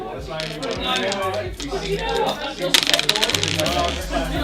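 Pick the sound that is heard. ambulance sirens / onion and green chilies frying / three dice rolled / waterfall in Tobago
three dice rolled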